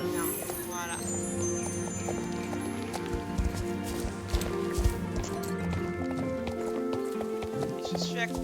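Horse galloping in the Star Stable Online video game, a steady run of hoofbeats with clip-clop rhythm set under a dense layer of game music and effects, with a person talking over it.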